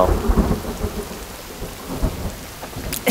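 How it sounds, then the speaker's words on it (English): Rain and thunder in the survival video game The Forest: a steady downpour with low rumbling thunder rolling through and a sharper crack at the very end, no voices. "Why is it raining?"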